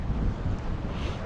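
Gusty wind off Lake Michigan buffets the microphone by a harbor breakwater in a low, steady rumble, with no voices.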